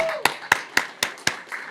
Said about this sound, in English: Let's give everyone a round of applause just for showing up